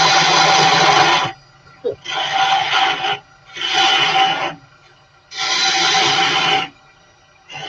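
Sandpaper works a wooden heart-shaped box spinning on a woodturning lathe, giving close, loud rasping bursts of about a second each, four in a row separated by short quiet gaps.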